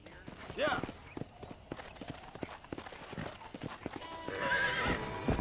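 A horse gallops and neighs in Red Dead Redemption, quick close hoofbeats drumming throughout, with a shrill whinny early on and another loud neigh toward the end.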